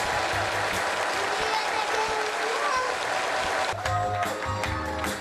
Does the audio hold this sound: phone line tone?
no